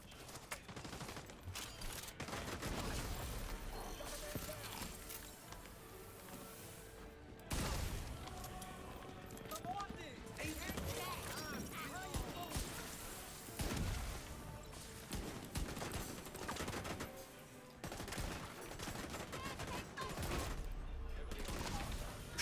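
Gunfire in The Division 2, heard as repeated bursts and single shots with impacts and mechanical clatter running steadily through the whole stretch, mixed with game noise at a fairly low level.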